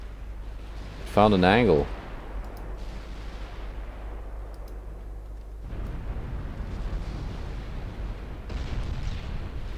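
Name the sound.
battleship gunfire in naval video game UAD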